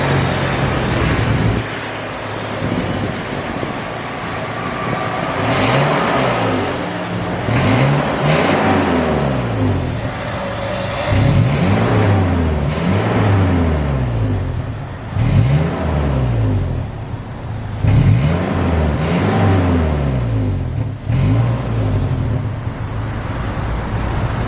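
A 2006 Toyota Fortuner running just after startup, its engine revved repeatedly: close, loud swells that climb and fall back in a series of revs over a steady idle, with no voices.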